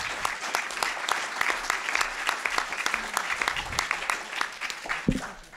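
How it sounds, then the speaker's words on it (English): A crowd claps in steady applause, a dense patter of hands that continues throughout, moderately loud. "can I have a round of applause for the current president?"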